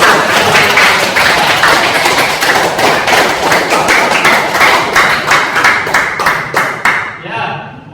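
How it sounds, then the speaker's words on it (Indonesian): Audience applause after group presentations at an Indonesian class session: dense, steady clapping from many hands that holds loud and even, then trails off near the end. "sekali lagi aplaus untuk semuanya"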